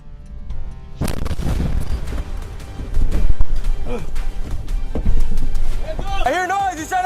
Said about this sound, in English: officers opened fire